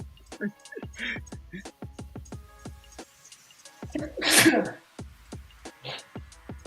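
A person sneezes once, a loud broadband burst standing out amid rapid clicking ticks and a conversation between several people.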